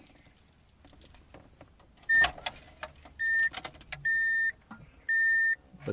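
A key jangles in the ignition of a 1996 Subaru Legacy that fails to start, with several steady chime-like beeps sounding nearby and no engine catching.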